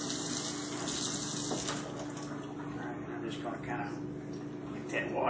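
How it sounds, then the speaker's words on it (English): Tap water runs steadily into a sink while pork ribs are rinsed under it, a constant close splashing wash with faint talk underneath. "we're gonna wash them off real good"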